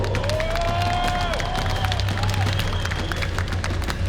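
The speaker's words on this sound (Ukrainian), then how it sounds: "Оплески Аміру!" Arena crowd at a KLAN FC fight night in a sports palace applauding and cheering a returning fighter, a dense steady wash of claps and voices with a low hum and a brief tonal sweep above.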